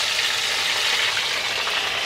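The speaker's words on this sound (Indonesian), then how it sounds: "kita goreng tempenya" Tempeh frying in a pan, a continuous bright crackling sizzle of hot oil that stays steady and close with no talking.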